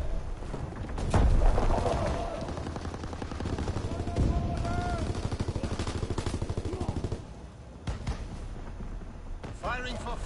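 Video game gunfire: rapid automatic bursts and single shots rattle on almost without pause, loud and close, with voices talking over the action.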